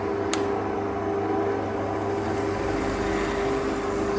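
A bench grinder set up under a drill press for sharpening stump grinder teeth runs with a steady motor whine and hum. A low rumble swells toward the end.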